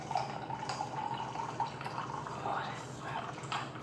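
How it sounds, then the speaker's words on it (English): Grapefruit juice is poured into a glass for a cocktail, a steady soft liquid trickle with faint drips, quiet and close. "and then gonna pour in our grapefruit juice"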